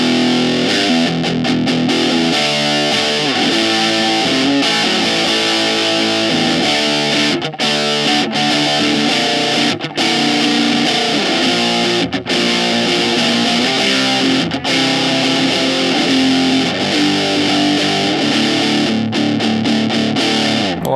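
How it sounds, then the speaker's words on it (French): Ibanez Gio Jumpstart electric guitar (IJRX20U-BKN) played through a distorted amp on the bridge pickup, loud chugging riffs and sustained power chords with short stops and restarts, no voices. "On va passer ici au son de distorsion, celui qui vous intéresse tous"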